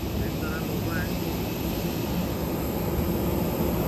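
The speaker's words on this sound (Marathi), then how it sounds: "एअरबस 320 असं फ्लाईटचं नाव आहे" Steady, loud engine roar fills an Air India (Vistara) Airbus A320 cabin throughout, with possible faint voices underneath.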